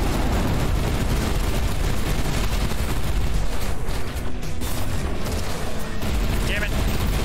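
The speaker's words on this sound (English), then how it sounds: "See all them explosions right there?" Explosions and gunfire in the space combat game Everspace 2, a dense, unbroken roar of blasts and rapid shots filling the whole stretch at high loudness.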